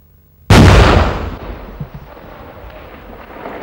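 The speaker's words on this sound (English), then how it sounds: "a target practice round was fired at a prior generation tank" Bofors 106mm recoilless rifle firing a target practice round at an older tank on a range, a single very loud, sudden blast followed by a long rumbling decay and echo.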